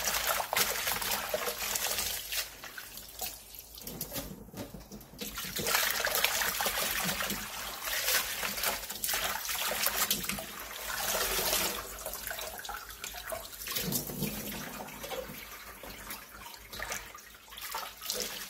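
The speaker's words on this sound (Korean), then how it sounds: "꼬들빼기는 씻으면서 쓴물이 마저 빠지도록 2-3번 정도 씻어내주세요." Gochuldeppaegi greens are rinsed under running tap water for kimchi, with a continuous splashing trickle that rises and falls as the leaves are handled. No voices are heard.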